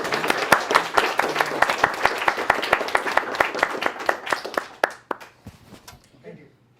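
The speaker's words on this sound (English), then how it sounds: "round of applause for Ryan Knowles of CDOT" A smaller meeting audience claps in sharp, distinct strokes that come quickly at first, then thin out and fade to scattered final claps.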